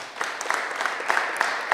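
Applause for a group of girls at a resolution presentation, a brief burst of many hands clapping in an indoor hall, fairly loud and continuous with irregular peaks.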